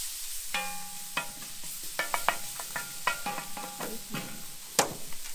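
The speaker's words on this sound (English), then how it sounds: "A little bit more oil in there. And we're going to chuck in, I've got one red onion, all just finely chopped. So that's going in. And we'll give that a little stir." Finely chopped red onion sizzling in oil inside a Big Green Egg, with a steady fry hiss broken by repeated scraping clicks of a utensil stirring the pan, close and clear with no talk.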